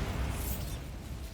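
A Bombarda blasting spell explodes in Hogwarts Legacy, a short rumbling burst of noise with a low boom that fades quickly.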